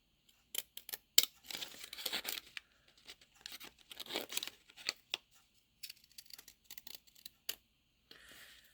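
Scissors cutting paper by hand while crafting decorative paper rosettes, a series of close, crisp snips and slicing rasps in irregular bursts, quiet and alone without talking.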